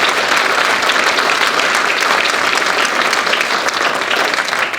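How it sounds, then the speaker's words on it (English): One big round of applause from guests at a county youth awards dinner, loud, dense and steady clapping filling the room throughout without pause. "Could we please get one big round of applause for the Youth Bureau"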